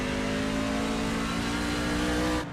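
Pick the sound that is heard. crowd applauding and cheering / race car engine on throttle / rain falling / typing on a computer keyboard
race car engine on throttle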